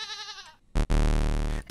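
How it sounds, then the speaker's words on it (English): A goat in the video game Hello Puppets 2 lets out a single loud, wavering bleat up close, followed after a brief pause by a burst of dense, sustained game noise. "That was the goat!"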